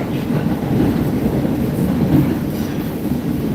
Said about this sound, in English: So if you can hear me over the train